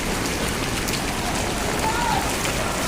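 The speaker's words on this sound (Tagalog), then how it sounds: "tuloy-tuloy po yung ulan" Steady, heavy rain pours down continuously over flooded EDSA streets, a dense hiss of drops striking surfaces with no pauses.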